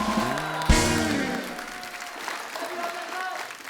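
A studio audience at a comedy talk show applauds as the film guests arrive. Loud, broad applause peaks early, then continues under music and voices.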